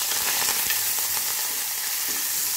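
Curry leaves, asafoetida and coriander with stems sizzle and crackle in hot oil for chow chow sambar, a steady close frying hiss throughout with faint stirring.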